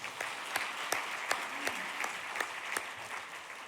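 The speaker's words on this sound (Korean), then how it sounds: "그래도 우리 박수로 격려하겠습니다." An indoor crowd at a church officers' seminar claps in a steady, moderately close round of applause, with sharp individual claps standing out from the rest.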